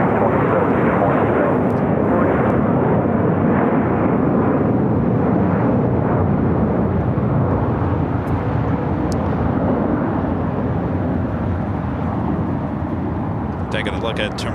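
American flight 3027 airliner taking off from LAX, a loud continuous jet engine roar filling the whole stretch, steady and broad, with a voice speaking over it.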